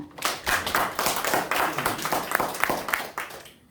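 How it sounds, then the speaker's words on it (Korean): Audience clapping at a network marketing presentation: a small room of people applauding for a few seconds with distinct individual claps, near and moderately loud, tapering off at the end. "박수 한번 주세요."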